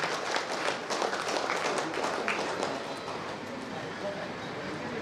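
An audience at a Rotary Club of Kovilpatti installation ceremony applauds to welcome the chief guest to the stage. The dense clapping runs steadily from start to finish, easing slightly in the second half.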